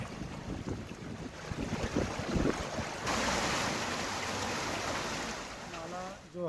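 Floodwater rushes continuously across a city road after heavy rain in Ranchi, flowing like a river for about a kilometre. A steady broad roar that swells partway through, with wind buffeting the microphone and no talking.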